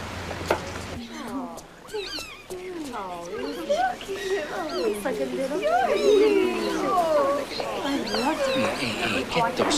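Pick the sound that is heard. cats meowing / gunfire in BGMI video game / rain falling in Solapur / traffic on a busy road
cats meowing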